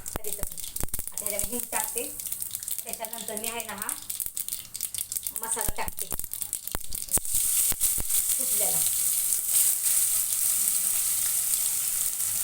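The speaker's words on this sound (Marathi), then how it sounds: "हे मी हिंग टाकते बघा असं फटफट फट आवाज यायला पाहिजे" Mustard seeds and asafoetida crackle in hot oil, a sharp spattering sizzle with dense popping that grows louder and steadier toward the end, with someone talking over the first half.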